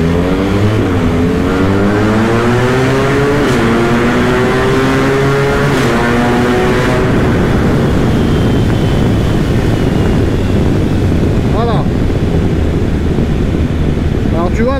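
A modified 1300 motorcycle engine revs hard and climbs through rising pitches, loud and close, with heavy wind rush over the microphone throughout.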